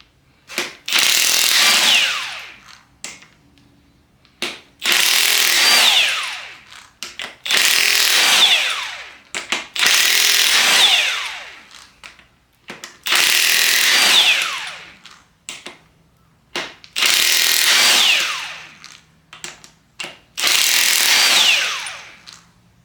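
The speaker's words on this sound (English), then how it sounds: "it is a 17 millimeter bolt. These are going to be a tad tight," Impact wrench removing tight 17 millimeter bolts that hold in an engine crankshaft, six loud close bursts of hammering a couple of seconds each, evenly spaced with brief quiet gaps and light handling noise between.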